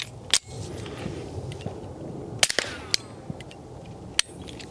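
A suppressed PSA Sabre Dagger fires single shots: sharp, short cracks with clicks and mechanical noise between them, heard outdoors with no talking.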